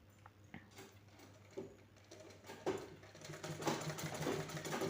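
A sewing machine runs a straight stitch along a half-inch folded lapped seam, starting with faint scattered clicks and building into a steadier, louder whirring chatter near the end.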